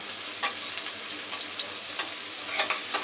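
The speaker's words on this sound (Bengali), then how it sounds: "আমি অল্প পরিমাণে প্রথমে একটু পেঁয়াজ কুচি দিয়ে দিলাম এটা আমি একটু হালকা করে একটু ভেজে নেব" Chopped onion fries lightly in a pan with a soft, continuous sizzle, punctuated by a few brief scraping stirs, heard up close with no talking.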